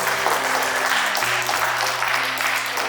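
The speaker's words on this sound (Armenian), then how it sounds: "կարող եք նույնպես շնորհավորել և ծափահարել" Parents applaud at a fourth-grade farewell ceremony at Gogaran secondary school, a sustained, even burst of clapping from a seated crowd over a faint steady hum.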